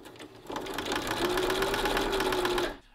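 A sewing machine runs steadily while stitching a rolled hem with a rolled hem foot, approaching a seam. The motor hum is close and loud, starting with a short burst and settling into a continuous whir for about two seconds before stopping.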